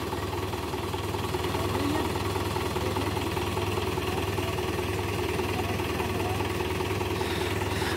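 A Mahindra 575 tractor, stuck with a loaded trolley, idles with a steady, close, unbroken engine drone and low knocking rumble that runs the whole time.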